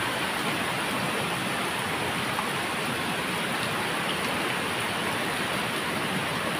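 Heavy rain falls in a constant, roaring wash of sound, uniform and unbroken from start to finish.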